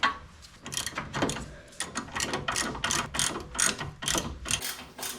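A ratchet with a deep socket works on the front strut bolts of a 2014 Ford F150, giving rapid repeated clicking strokes in quick bursts, close and fairly loud, with no talk.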